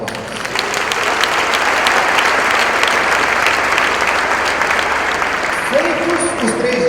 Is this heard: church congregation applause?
yes